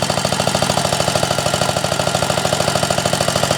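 An Onan engine fitted with a belt drive conversion runs steadily and close by, its rapid, even firing pulses forming a loud mechanical drone with a rhythmic knock throughout.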